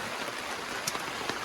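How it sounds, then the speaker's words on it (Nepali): Rain patters steadily on a tent during a jungle outing, a dense, even hiss of drops with a few sharper taps standing out near the end. "अलिकति पानी परिदियो है"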